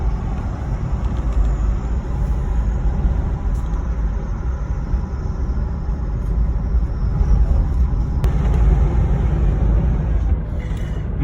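A 2010 Jeep Grand Cherokee Limited with the 5.7 HEMI V8 drives away from a house, heard from inside as a steady low engine and road rumble with no talk.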